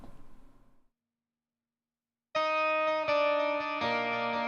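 Mixed instrument bus of bass, electric guitar and keyboards playing without Helios-style EQ, sustained distorted chords with effects that enter after a brief pause and hold loud and steady.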